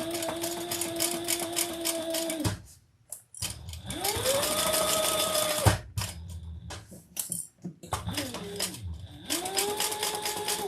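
A sewing machine stitches a quilted bag in several loud, rapid runs of mechanical whirring, stopping and restarting with brief pauses and small clicks between bursts.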